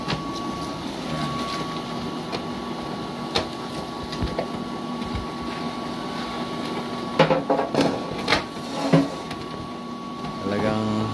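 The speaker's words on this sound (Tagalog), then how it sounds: "Anong tawag sa makina ito? Mixer." Concrete mixer churning cement for hollow blocks, a steady mechanical hum with a constant whine and intermittent clanks and knocks, while people talk nearby.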